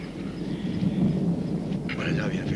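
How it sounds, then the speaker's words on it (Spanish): A low, rolling rumble of thunder from an approaching storm, heard at a distance and sustained throughout, with a faint higher disturbance near the end. "me parece que vamos a tener tormenta"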